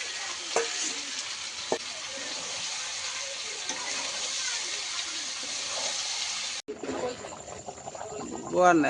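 Water pours into a pot of chicken curry with potatoes and onions, a steady sizzling, bubbling wash that runs on, then shifts to a sharper splashing stir near the end, with voices talking over it.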